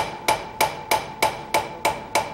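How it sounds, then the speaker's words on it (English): A blacksmith's hammer strikes hot iron in an even rhythm, seven sharp ringing blows about a third of a second apart, loud and close with no talk. "hit it so that there's not a lot of hammer blows that are evident, but that it's forged"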